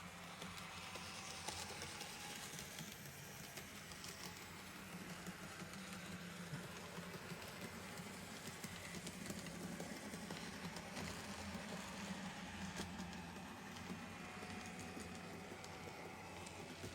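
A newly fitted replacement motor runs steadily while bedding in, giving a continuous mid-pitched hum with a faint rattle. The sound is moderately loud and unbroken, with no talking.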